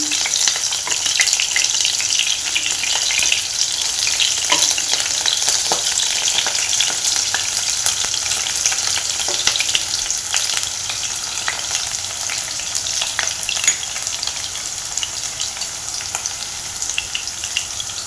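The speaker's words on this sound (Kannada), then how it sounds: "ಈಗ ಇಷ್ಟು ಚೆನ್ನಾಗಿ ಫ್ರೈ ಆಗ್ತಿದೆ ಈರುಳ್ಳಿ ನಮ್ಮದು" Sliced onion frying in a pan for a bitter gourd stir-fry gives a dense, continuous loud sizzle with faint crackles and occasional stirring touches throughout.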